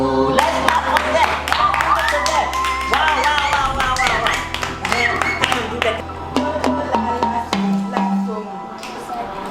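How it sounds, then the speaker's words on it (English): A group claps for a children's xylophone performance of Mary Had a Little Lamb, with uneven taps and claps mixed with voices and ringing tones throughout. "Let's clap for them."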